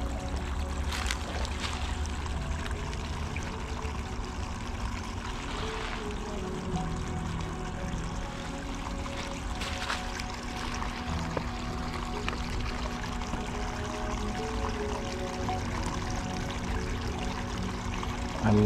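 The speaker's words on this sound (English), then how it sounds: "I love the sound of the water hits the rocks." A small waterfall splashes onto rocks in a park, a steady broadband rush of falling water that stays constant and moderately close throughout.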